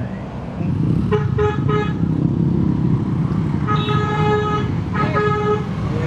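Several car horns toot in short repeated blasts over a steady rumble of road traffic and engines in Santa Rosa, Philippines.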